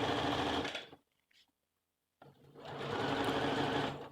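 Sewing machine stitching a line of elastic along a doll skirt for an 18-inch doll, a close steady whir that runs for about a second, stops briefly, then resumes for the final two seconds.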